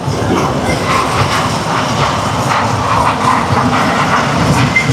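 Loud, steady rumble of a small toy train ride rolling along at a children's fair in Shyamoli, Dhaka, with a continuous rattling hum and faint background voices.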